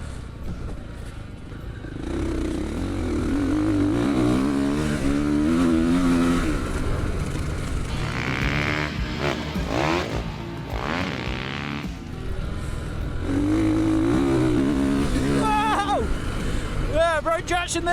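A Ducati motocross bike's engine revs hard while being ridden, its loud, close pitch climbing and falling through repeated throttle bursts and gear changes.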